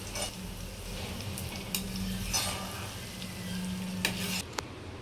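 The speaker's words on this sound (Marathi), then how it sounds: "आपण आता थोडे थोडे करून पोहे छानसे तळून घेणार आहोत" Poha (flattened rice) fries in hot oil on low gas heat in small batches, giving a steady close sizzle with a few sharp clinks of a spoon against the pan.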